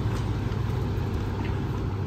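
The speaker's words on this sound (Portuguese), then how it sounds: "Aí o carro entra na cidade." A car rolls through a barrier into the town of Toledo, Spain, a low steady engine idle and rumble heard from inside, continuous and moderately loud with no talk.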